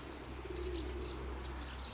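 Pigeon cooing near a nest during mating season, a soft low throaty coo rising and fading over a steady low background hum, alone and moderately close.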